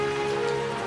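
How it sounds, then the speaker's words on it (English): Early monsoon rain, the mango rains of late April near Rangoon, falls in a steady, dense patter on surfaces, a continuous wash of drops with no voices. "By late April, the first promise of the monsoon, the so-called mango rains, were falling."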